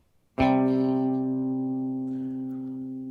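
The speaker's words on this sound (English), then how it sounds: "we get what's called a power chord" A single guitar power chord rings out sharply and sustains, slowly fading in a full, steady drone.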